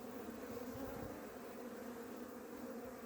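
Honey bees in a hive with a false queen give a steady, low, droning buzz that stays constant and faint throughout, with no voices.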